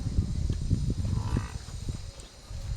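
Low mooing from buffaloes and cows close by, a few deep drawn-out calls over a rumbling background.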